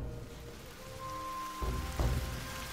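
Steady rain falls in an audiobook sound effect for a story set in old Kyoto, a soft continuous patter with a couple of heavier splashes near the end.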